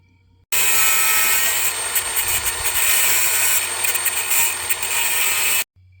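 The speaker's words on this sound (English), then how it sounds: "the next thing we're going to try is the cutoff wheel" Abrasive cutoff wheel grinding into the head of a seized bolt on a 1951 Farmall Cub tractor, a loud continuous high-pitched screech that holds steady for about five seconds with slight wavering, then stops abruptly.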